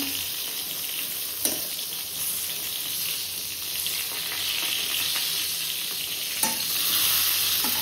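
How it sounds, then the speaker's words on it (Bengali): Eggplant slices frying in a pan of hot oil in a home kitchen, a steady, close sizzle throughout with a couple of brief clicks, and no one speaking. "এই যে বেগুন ভাজা হচ্ছে"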